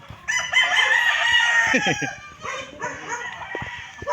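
Roosters crow loudly and close at a chicken farm, one long drawn-out crow followed by more crowing and clucking from other fowl nearby.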